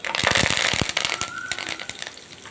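Curry leaves and tempering spices sizzle and crackle in hot oil for a gongura roti pachadi, a dense, close run of sharp pops and spits that is loudest at first and then thins out.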